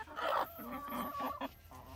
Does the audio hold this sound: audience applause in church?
no